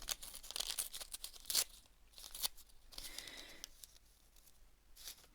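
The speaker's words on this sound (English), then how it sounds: "So I'm going to tear that down a bit." Paper scraps torn by hand nearby, with several quick ripping strokes and crinkles, then quieter handling and a final short tear, all faint.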